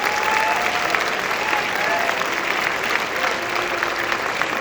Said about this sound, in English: Can you give them an applause, please